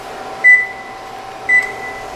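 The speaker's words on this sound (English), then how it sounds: "you are going to preheat your oven to 350 degrees" Two short electronic beeps from an oven control panel as it is set to preheat to 350 degrees, spaced about a second apart over a steady low hum.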